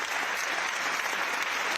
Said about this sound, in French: Merci de les applaudir tous les 6.